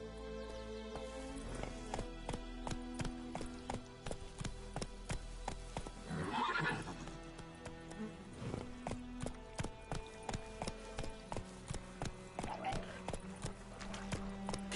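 Hooves clip-clop in a quick steady rhythm as a horse gallops in The Witcher 3 video game, with a brief whinny partway through, over game music and ambient sound.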